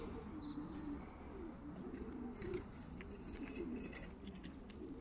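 Pigeons cooing softly in a pigeon loft, low repeated coos layered together with faint chirps, quiet and fairly close.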